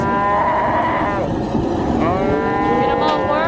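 Cattle moo loudly and repeatedly in drawn-out, overlapping calls at a ranch branding in Ibapah, over a constant background din with no clear talk.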